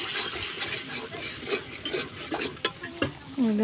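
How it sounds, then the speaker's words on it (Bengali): Spices for a fish curry fry and get stirred in a pan, a continuous sizzle broken by scraping strokes and clinks of the spoon against the metal, growing busier and louder toward the end. "মাছ বুনা করার লেগে মশলা কষাইতে আছি"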